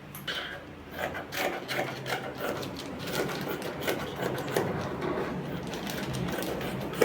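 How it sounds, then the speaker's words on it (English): Close scissors cutting fabric along a sleeve pattern, with continuous scraping, snipping and rustling of cloth on a table in an irregular rhythm throughout. "Let's cut it on the fabric."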